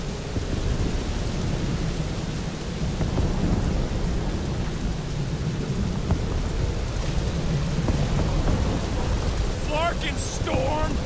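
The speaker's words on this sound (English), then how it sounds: "Flark and storm! Let the winds invigorate you!" Stormy weather in the Guardians of the Galaxy video game: a steady roar of wind and rain with low thunder rumbling throughout, faint voices in the background and a few brief higher chirps near the end.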